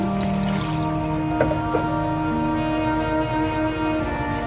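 Water poured into a bowl of pink dosa batter in a home kitchen, a steady continuous splashing stream at close range, alone without talk.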